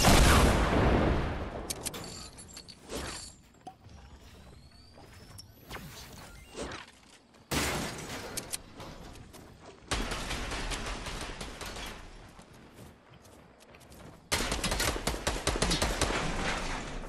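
Bursts of automatic gunfire in the battle royale video game Fortnite, loud sustained volleys alternating with quieter pauses and scattered single shots, some near and some further off.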